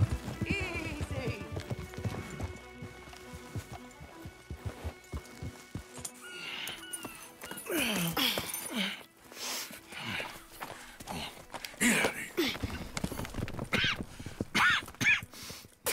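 Horses in the video game Red Dead Redemption 2, hooves clip-clopping and a whinny under game music, with snorts and movement noise close by and characters talking intermittently.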